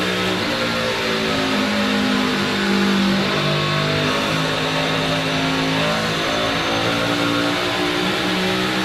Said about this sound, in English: Hear him just work the throttle.